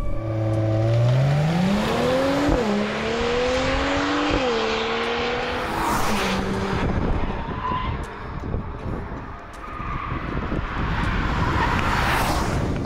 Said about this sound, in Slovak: Ako náhle podradíte s výfukou, to krásne zapraská